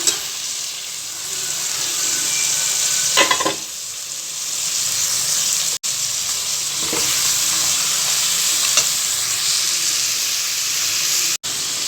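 Masala spices with tomato and curry leaves sizzle and fry steadily in a hot pan for mutton curry, with a constant hiss and a few scraping stirs, no voices.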